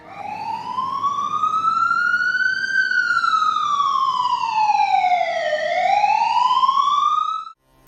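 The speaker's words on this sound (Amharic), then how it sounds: "አምቡላንስ!" Continuous wailing ambulance siren rising and falling in slow sweeps, loud and close, sounding alone without talk for about seven seconds before cutting off abruptly.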